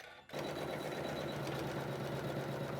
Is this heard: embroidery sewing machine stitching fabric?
yes